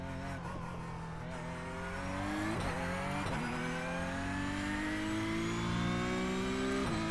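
Porsche race car engine in a racing video game at Monza, revving steadily upward through long rising pitch sweeps with brief gear-change dips, constant and moderately loud with no talking.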